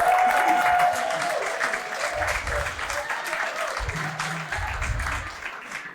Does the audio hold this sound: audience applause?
yes